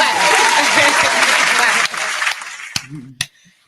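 Applause on a podcast about womanhood, starting as a loud, dense burst, then thinning out and giving way to a few sharp separate claps, with brief speech breaking in near the end.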